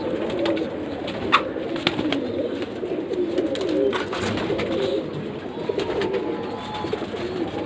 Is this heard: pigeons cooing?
yes